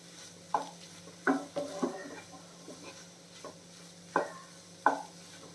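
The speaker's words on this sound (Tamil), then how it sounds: "நாம் இதை கிளறிடுவோம் முட்டையை அதில் போட்ட உடனே கிளறலாம்" Beaten eggs with spring onion are stirred in a pan, giving about half a dozen separate scraping strokes of a spatula against the pan over a low, quiet background, with no one speaking.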